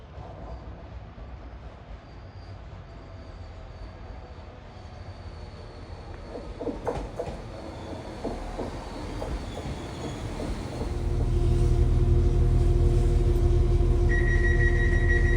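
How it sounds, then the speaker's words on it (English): Inside a Northern train riding to Barrow-in-Furness, a steady rumble of wheels on rails with faint clicks and squeals, swelling into a louder, heavier roar near the end. "This northern train to Barrow-in-Furness."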